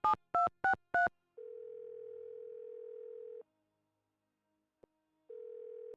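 Phone call in the Nancy Drew game The Captive Curse, with four short beeps of dialing followed by a steady ringback tone that repeats after a pause and goes unanswered, with a faint click in between.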